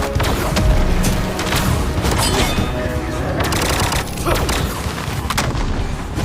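Rapid gunfire and booming blasts from the Holy Horn pistol in an Armor Hero battle, dense overlapping shots and explosions layered over a loud action soundtrack, continuous and close throughout.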